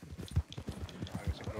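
Horse hooves clip-clop in a steady walking rhythm through a ranch role-play game, with voices talking over them.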